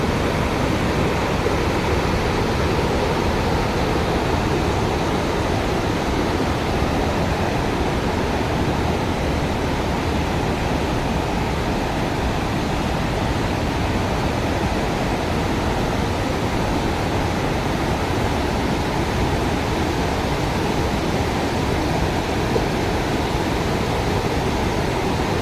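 Waterfalls and the Mondavi river in the Mondavi reserve roar as a steady, dense broadband rush of falling water that holds unchanged throughout, with no voices present.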